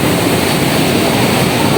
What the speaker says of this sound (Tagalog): Puti kalalaki ng alon.